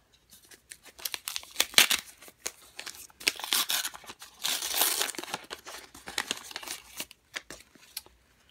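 Paper envelope torn open and handled up close: crisp crinkling, tearing and rustling bursts, loudest in the middle stretch, with pauses between and no talking.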